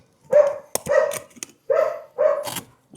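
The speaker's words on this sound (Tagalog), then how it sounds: "Ingay ng aso guys, sorry" A dog barks four times in two pairs, loud and close, with short sharp clicks between the barks, beside a Honda Civic EG hatchback.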